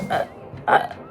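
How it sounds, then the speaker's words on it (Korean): Two quick, close hiccups sound about half a second apart, each a short voiced gulp, with no talking. "딸꾹질 엄청 했어"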